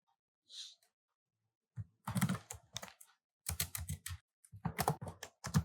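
Java code goes into a computer keyboard as close, crisp key clicks in short bursts separated by pauses, quiet and alone with no speech.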